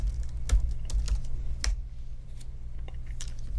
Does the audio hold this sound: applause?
no